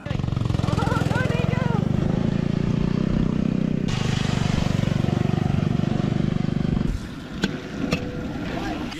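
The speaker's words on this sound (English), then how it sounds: "The kids are out riding on snow machines." Snowmobiles ride around outside at a snowy winter campsite during a snowstorm, their engines a steady buzzing drone nearby that fades and drops away near the end, while a person talks over it.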